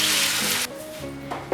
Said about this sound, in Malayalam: നമ്മുടെ ബാക്കി പൊട്ടറ്റോയും കൂടെ ഞാനൊന്ന് ഫ്രൈ ചെയ്യട്ടെ.